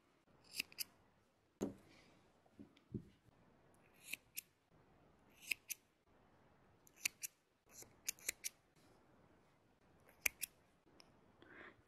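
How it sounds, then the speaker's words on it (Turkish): Scissors snip through Alize Puffy yarn in a series of crisp, close cuts, each a sharp metallic click at an irregular pace, over quiet background without talk. "Böyle kestiğimiz iplerden 11 tane keseceğiz."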